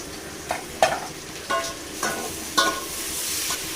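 Tomatoes sautéing with golden fried onions in a pan, with several distinct stirring scrapes spaced about half a second apart over a steady close sizzle, and no voices.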